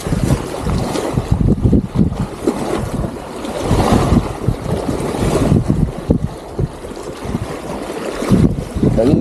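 Strong wind buffets loudly and continuously over rough, splashing sea waves, close and unbroken, while out fishing for shrimp at sea.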